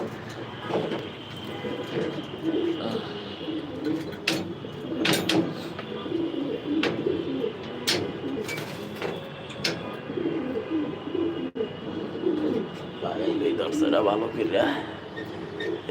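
Pigeons in a racing loft coo and call off and on throughout, with brief sharp wing flaps and clatters over a steady low murmur of the flock.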